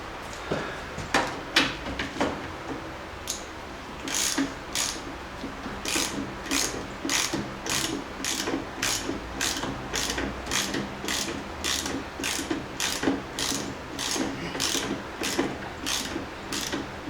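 Hand ratchet clicking steadily as a wheel is tightened on a 2007 John Deere LA105 riding mower, a long run of regular close pawl clicks after a few uneven opening strokes, no speech.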